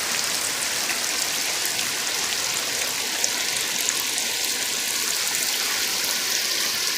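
Heavy rain pours down steadily on an Odisha village, a dense, even hiss of drops that never lets up, with no one speaking.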